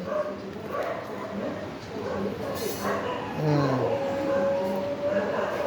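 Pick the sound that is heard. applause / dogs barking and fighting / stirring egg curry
dogs barking and fighting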